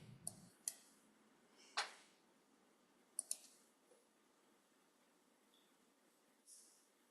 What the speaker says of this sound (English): I was actually typing another question